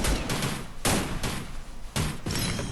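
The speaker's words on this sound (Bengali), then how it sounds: "স্নাইপার মারে কই থেকে ওই যে উপরে" Sniper rifle fire in a battle royale video game: three sharp, loud, broad shots spaced about a second apart, each followed by a ringing tail, with no talk.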